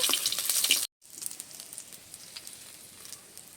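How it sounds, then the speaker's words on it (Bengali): Tangra fish frying in hot oil in a home kitchen, a bright crackling sizzle that cuts out briefly, then returns as a softer, steady spitting and popping. "ট্যাংরা মাছগুলো ভেজে নেব"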